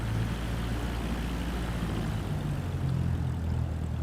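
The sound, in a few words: aircraft taxiing in video game Microsoft Flight Simulator 2024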